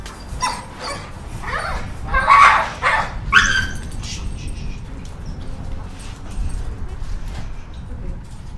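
An aggressive dog near another dog gives a few short, sharp barks and yelps in a cluster early on, mixed with whimpering, then quiets into low background noise while people talk.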